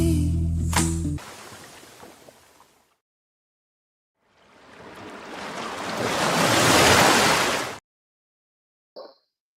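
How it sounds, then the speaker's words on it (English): Ocean waves surge and crash in loud rushing swells, building to a broad roar before cutting off abruptly, with a brief splash afterward. "Y'all got swept up by that wave."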